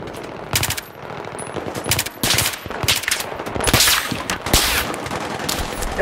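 Rapid bursts of automatic gunfire in Battlefield 3, with sharp individual shots, loud and close, firing in several volleys over background game noise.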